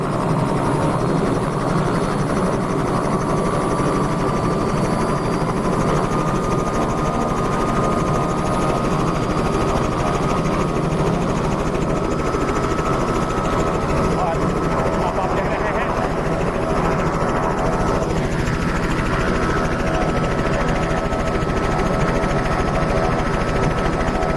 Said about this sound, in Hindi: और अब हेलीकॉप्टर उड़ने वाला आप देख रहे हैं